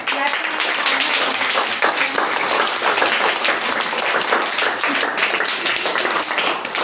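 Loud, continuous applause fills a hall for a girl placing third in a hamd recitation competition, dense clapping sustained throughout with a crowd murmur underneath.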